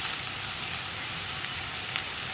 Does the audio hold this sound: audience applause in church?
no